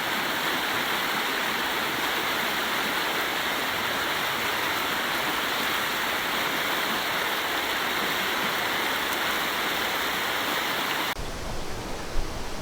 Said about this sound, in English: we can see water bubbling up from underground into this little pool and running down to join the burn